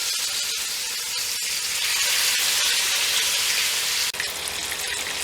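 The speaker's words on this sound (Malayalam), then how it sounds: "അപ്പം നമുക്കിത് ഫ്രൈ ചെയ്യാൻ വെച്ച് കൊടുക്കാം." Chicken pieces sizzle and crackle steadily in hot cooking oil in a pan, a dense, continuous frying hiss with small pops and a brief dip near the end, no voices.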